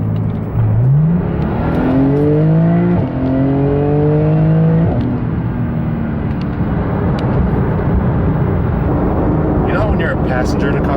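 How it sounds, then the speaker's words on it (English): A Porsche 911 GT2 RS exhaust roars as the car accelerates hard, pitch climbing through several gear changes over about five seconds before settling into a steady, loud engine drone. "Hear that exhaust?"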